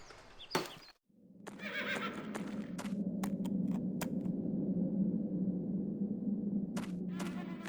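Horses in a stable in a video game, a sharp thump followed by a long, close neigh, with occasional clicks and hoof taps in the background.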